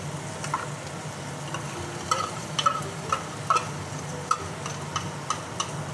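Onion, mushrooms and shredded pork fry in a pan with a steady sizzle. Repeated clicks and scrapes of stirring sound close by, and no one talks.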